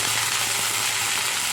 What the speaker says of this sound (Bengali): লঙ্কাটা আর গোটা জিরেটা ভাজা হয়ে গেছে, এর মধ্যে দিচ্ছি ভালো